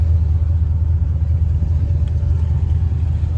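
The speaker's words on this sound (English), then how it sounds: "Kind of sounds like she's got a little bit of exhaust leak up front there." LS-swapped 1988 Firebird V8 idling steadily and quietly after new long-tube headers and full exhaust, a small exhaust leak up front, a continuous low rumble close by with no talk.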